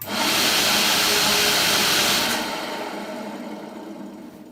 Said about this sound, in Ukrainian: Зразу працює вентилятор.